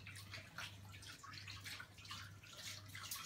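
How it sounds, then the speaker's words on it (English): Water runs from a tap as hands are rinsed quickly at a kitchen sink, a steady close splashing with small gurgles and drips throughout, no talk. "So I'm just going to rinse my hands quickly."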